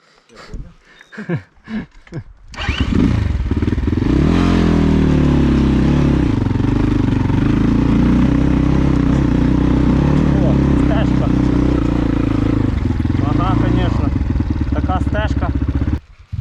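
KOVI MAX 300 and LITE 250 enduro motorcycles riding off-road in the Carpathians, a close engine drone that rises and holds with shifting pitch, after a few seconds of talk at the start.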